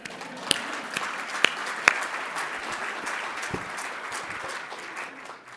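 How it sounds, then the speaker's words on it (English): An audience applauds at a ribbon-cutting ceremony for a health center of excellence. Steady, moderately distant clapping carries throughout, with a few sharper claps standing out near the start. "we can clap for that"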